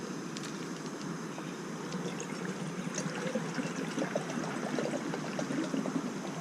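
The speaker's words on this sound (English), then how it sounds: "Put your little water in here." Water pours steadily into a Jetboil camping stove pot outdoors, a close, continuous trickling stream that stays fairly even throughout.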